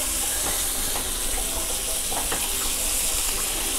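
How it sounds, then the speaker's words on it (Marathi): Paneer pieces fry crisp in a pan over high heat, a loud, steady, close hiss of oil with faint intermittent crackles running the whole time, no one talking. "तर आता आपण पनीरचे छान असे छान खरपूस तुकडे फ्राय होत आहेत"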